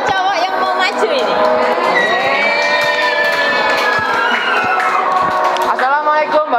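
Students in a classroom cheer and shout for a boy volunteering to come forward, a loud continuous crowd roar of young voices with whoops, with no clear separate clapping.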